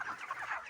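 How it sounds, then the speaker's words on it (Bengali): Broiler chickens about 30 days old and around 2 kg each cluck at close range on a poultry farm in Assam, a brief burst of overlapping clucks with no voices. "দেখেন আপনারা মুরগির সাইজটা।"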